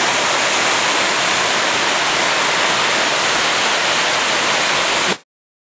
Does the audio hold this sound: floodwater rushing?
yes